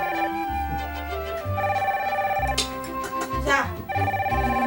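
Telephone ringing in a home during a family meal, a repeating electronic ringtone melody running throughout under background music.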